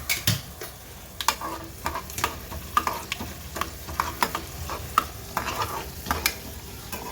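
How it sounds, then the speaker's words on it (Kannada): Chana dal and urad dal temper in hot oil with a steady sizzle, and a spoon stirs and scrapes the pan in irregular clicks and taps close by. "ಒಗ್ಗರಣೆ ಆಗಿದೆ ನೋಡಿ"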